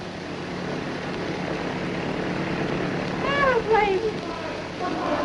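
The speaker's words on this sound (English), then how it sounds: "Airplane!" A propeller airplane drones steadily overhead in a loud, unbroken roar, with a voice briefly calling out over it partway through.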